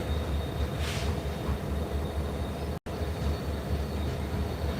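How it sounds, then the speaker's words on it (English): Autonomous locomotive 737 sits close by, giving off a steady, broadband rumble and hiss that holds at one level throughout, broken only by a brief cut midway. "There is one of the autonomous locomotives. 737 sitting in front of us."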